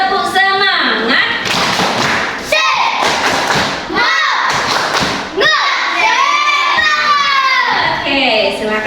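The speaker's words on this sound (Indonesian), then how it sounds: "coba sebelum belajar tepuk semangat." Children in a classroom doing a spirit clap, loud rhythmic claps and thumps mixed with chanting and shouting voices, close and energetic throughout.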